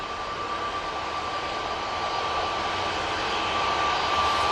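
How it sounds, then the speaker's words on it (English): A Ryanair Boeing 737 MAX 8 rolls for takeoff at Manchester Airport, its jet engines a steady, loud, broadband roar that swells slightly throughout. "Ryanair 737 MAX 8 now on the roll."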